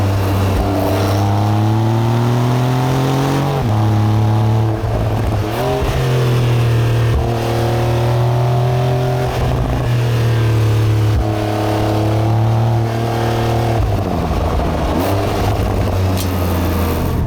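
A Porsche 992 Targa 4 GTS engine revs hard through successive gear changes. Its pitch climbs repeatedly and drops sharply at each shift, every couple of seconds, close and loud with no talk.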